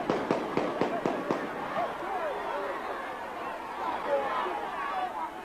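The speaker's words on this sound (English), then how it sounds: "yet another excuse for gunfire" A quick burst of six sharp gunshots rings out, then fades into distant crowd chatter and murmuring voices.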